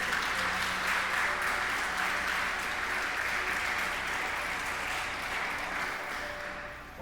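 Church congregation breaks into loud, sustained applause filling the room, dense and steady before tapering off near the end.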